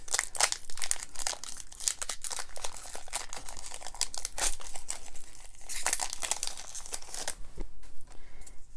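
Crinkly foil wrapper of a Pokemon TCG Sword & Shield Rebel Clash Inteleon booster pack being torn and opened, a continuous close crackling and ripping that stops near the end.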